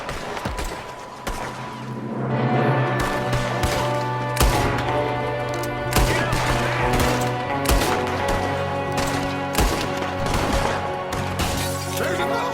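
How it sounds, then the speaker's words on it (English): Gunfire in a Red Dead Redemption 2 shootout in winter: repeated loud sharp shots crack at irregular intervals over a sustained droning tone, close and punchy. "There's another one shooting from the window."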